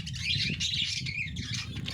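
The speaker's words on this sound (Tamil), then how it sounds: "எப்படி குருவி சத்தம்லாம் கேட்குது?" Sparrows chirp and twitter steadily in a village, a continuous, moderately loud chorus of small bird calls with no voices.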